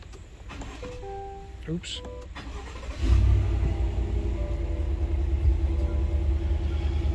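A 2021 Chevrolet Tahoe Premier engine cranks and catches after a few seconds of quiet clicks and faint handling, then settles into a steady, close low rumble at idle; a voice speaks once briefly near the start.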